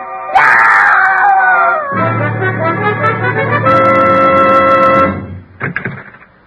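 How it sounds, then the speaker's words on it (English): A woman's loud, prolonged scream in an old-time radio drama, a wailing cry that falls in pitch and then breaks into sobbing moans before fading, close and alone with no speech. "I heard a scream."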